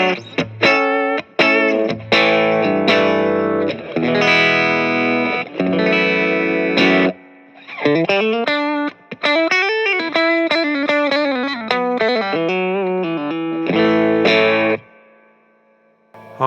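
Electric guitar played through a Hiwatt Leeds 25R compact amp with its reverb switched on, ringing chords and single-note runs sounding close and loud, with a lingering wash of reverb between phrases.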